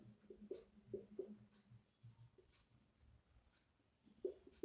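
A pen scratches across paper in short, quiet strokes with small pauses while a definition is written, close and faint with no talking.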